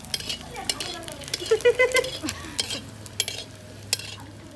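Papad frying in oil in a pan at an outdoor picnic, with a spoon stirring and clinking against the pan in irregular scrapes and taps over a soft sizzle, and faint voices in the background.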